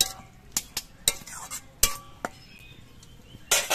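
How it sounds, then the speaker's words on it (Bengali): Khesari greens stirred in a wok, with sparse metallic clinks and scrapes of a utensil against the pan, short separated hits at irregular intervals over a quiet background. "শাকগুলো আর একবার নেড়ে চেড়ে দিচ্ছি"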